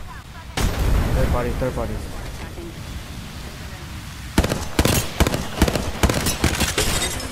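Video game gunfire crackles in rapid bursts during a third-party fight, loud and close in the second half, after a stretch where players talk over quieter shooting.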